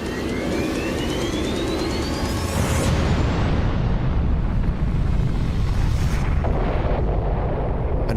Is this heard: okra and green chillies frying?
no